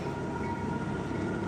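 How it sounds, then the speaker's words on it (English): Norfolk Southern train rolling through Lexington, Kentucky, a steady, continuous rumble of rail cars and wheels held at an even level throughout, with no voices over it. "And then here's the train in Lexington."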